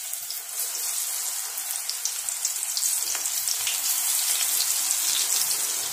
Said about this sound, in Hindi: अभी हमारा ये तेल हो गया है, अभी हम इसमें भजिया को इस तरह से डाल देंगे।